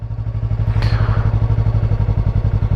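A motorcycle pulls away as its clutch is eased out, a close, loud engine thumping in a steady pulsing rhythm, with a brief rattling clatter near the start.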